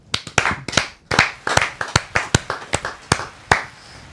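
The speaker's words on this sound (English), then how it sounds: "We got fake applause?" Sparse, close clapping from a podcast studio's fake-applause button, a dozen or so sharp individual claps in an uneven rhythm rather than a full crowd, with short gaps between them and no voices.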